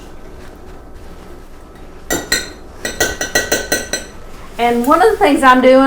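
A utensil handle stirs sugar and cornstarch together in a bowl for a raspberry cobbler, giving a quick run of close, bright clinks and taps. A person then starts talking over the last of the stirring.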